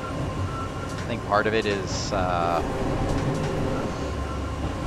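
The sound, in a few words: Eizan Electric Railway train in a train driving video game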